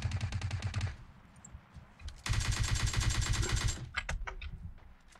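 Rapid bursts of automatic gunfire in PUBG Mobile Lite rattle in quick succession, with a pause between volleys and a few scattered single shots at the end.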